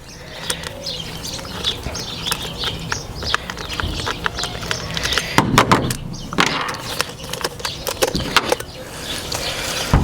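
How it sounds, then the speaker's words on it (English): Metal Allen wrench working the axle bolt loose on an inline skate wheel, a run of close, sharp clicks, scrapes and small mechanical knocks, with a denser burst of clatter midway through. "So I have my Allen wrench here, and I just take the wheel off."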